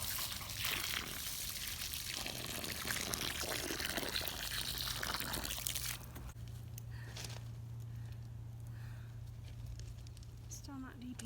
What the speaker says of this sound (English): And now I'm filling this with water.